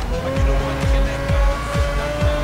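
Pagani Zonda R engine roaring and repeatedly sliding in drifts in Need for Speed Most Wanted, tires squealing in a rhythmic series of about five sweeping skids under a steady high engine note, loud and close.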